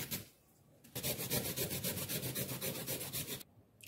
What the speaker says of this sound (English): So now I'm grating my carrots.